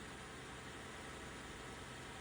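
A 3.6 V6 engine in a flood-damaged Cadillac SRX idles very quietly as a smooth, steady low hum with no ticking or chatter. The sound is faint and even throughout, and no one speaks.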